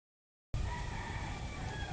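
After a brief silence, a rooster crows loudly and close, with a noisy background of pigeons and chickens in a coop around it.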